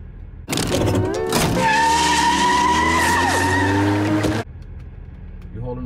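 A car spins donuts with loud, sustained tire squeal lasting about four seconds, engine revving underneath, then cuts off abruptly.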